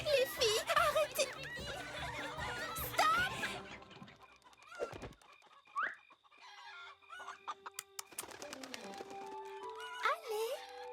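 Cartoon hens cluck and squawk in a busy burst, then scattered clucks and chatter follow amid animated sound effects, with a voice speaking over parts of it.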